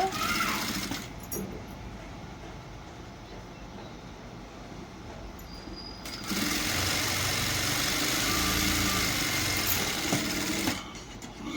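A sewing machine runs while stitching blouse pieces at presser-foot width, a continuous motor whir that steadies, eases slightly, then swells louder for several seconds before cutting off.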